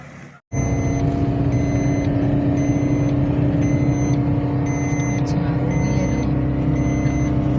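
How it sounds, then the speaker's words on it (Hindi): A car driven by a woman on the way home from a college event, its engine and road noise a constant loud drone after a brief cut at the start, with repeated faint electronic beeps and voices occasionally over it. "तो बीना मैडम चला रही हैं गाड़ी, बहुत अच्छी गाड़ी चला रही हो बीना"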